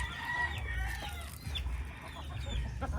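Backyard chickens cluck nearby in short, repeated bursts over a low background rumble, sounding fairly close and moderately loud.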